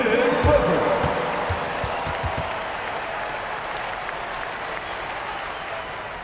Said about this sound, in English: please give a big round of applause for the Clippers U16 team